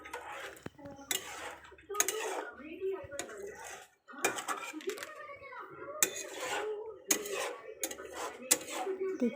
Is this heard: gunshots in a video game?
no